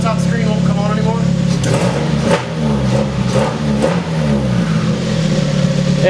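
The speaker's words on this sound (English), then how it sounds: "I heard a little bit of turbo spool there" A Nissan 240SX with a turbocharged KA engine revs steadily and loudly, a whirring turbo spool rising over the engine note, with a voice talking over part of it.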